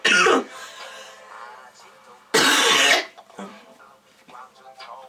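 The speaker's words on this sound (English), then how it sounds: "it's just me coughing, I hate it." Two loud, harsh coughs a couple of seconds apart, close by, followed by quieter murmured talk and shuffling.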